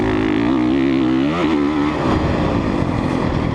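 Engine of a 2017 Honda CRF 450 dirt bike on a raceway lap, a loud close buzzing whine that climbs and dips in pitch, then breaks into rougher, choppier revving.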